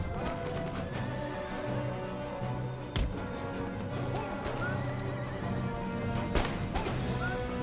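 Cavalry horses neighing amid battle in the Empire: Total War strategy game, repeated whinnies and clip-clopping hooves over a dense din of clashing and crashing, with sharp impacts around the middle and near the end.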